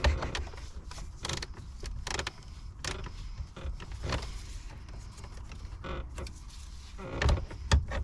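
A 1/2 inch ratchet clicks and creaks while turning bolts to install a ZTech burnout box on a Nissan 350z, with repeated ratcheting bursts and metallic clatter close by, uneven in rhythm.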